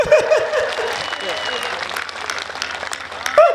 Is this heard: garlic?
no